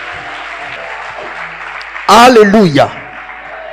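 A church congregation at a French-language Sunday service breaks into brief, loud applause and cheering lasting under a second, mixed with a shouted exclamation, over a low hum of room noise.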